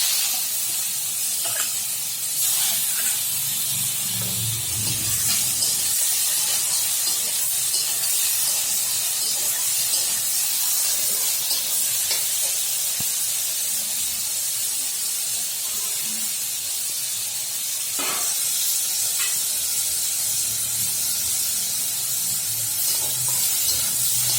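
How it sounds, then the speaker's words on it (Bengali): Prawns fry in a pan for a doi chingri dish, a loud, steady, close hiss of sizzling oil and steam with occasional faint pops and scrapes, continuous throughout without talk. "দেখুন চিংড়ি খুব বেশি ভাজবো না বেশি ভাজলে চিংড়ি শক্ত হয়ে যায়"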